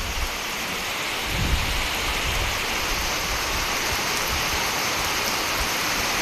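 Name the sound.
heavy rain with thunder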